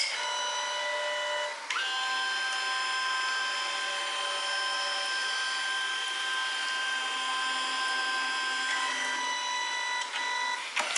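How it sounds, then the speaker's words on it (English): A Kodak portable photo printer runs a long, steady mechanical whir with tonal hum, close by, marked by a brief click and shift in pitch near the start and the end. "So it prints the yellow first."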